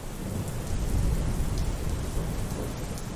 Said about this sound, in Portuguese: começam as chuvas e o frio